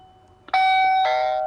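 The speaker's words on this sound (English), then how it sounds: "Push the doorbell. Doorbell's ringing inside." A VANBAR video doorbell chimes loud and close after a faint click: a sustained two-tone electronic ding-dong with a second strike about half a second later, ringing on steadily with no talking.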